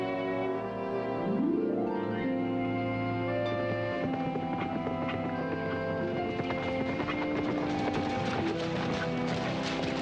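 Percheron horses' hooves clop in a busy irregular patter under a background of music, with a horse's whinny rising early on.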